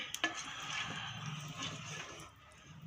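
Eggplant gojju being stirred in a pan, with soft scraping and stirring strokes over a faint sizzle, quiet and close.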